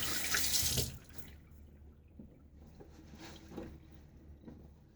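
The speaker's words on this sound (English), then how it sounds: "Rinse the handle off." A Fatip Grande razor handle is rinsed under a running tap with hard water. A loud one-second gush and splash is followed by a softer trickle of running water and faint drips.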